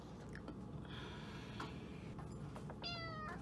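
A cat meows a few times, soft and somewhat distant, over a steady low background hum.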